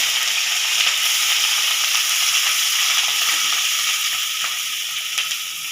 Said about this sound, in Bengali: এবার আমি পেঁয়াজ কাটাটা দিয়ে দেব।